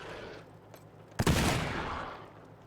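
A shotgun fires in the video game Wasteland 3 as one sudden loud blast that tails off into a rumbling decay, set against a quieter game background and with no voices.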